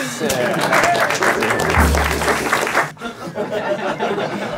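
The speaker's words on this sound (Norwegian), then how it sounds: "Applaus!" An audience at a comedic Norwegian calendar show bursts into applause mixed with chuckles and laughter, loud at first, then dropping suddenly and continuing more sparsely with murmuring voices.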